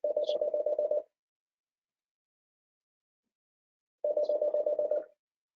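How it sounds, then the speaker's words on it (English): A telephone rings during a village special board meeting: two warbling, trilling rings of about a second each, separated by a few seconds of silence, moderately loud and with no talking. "the phone's ringing"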